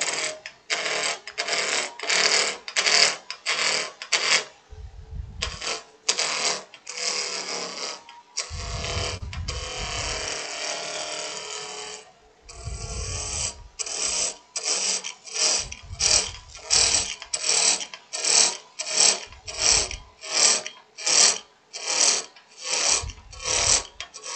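A wood lathe spins at 2400 rpm as a tool cuts a goblet, producing rapid rhythmic chattering, ratcheting bursts with brief pauses and a low hum between passes, loud and close.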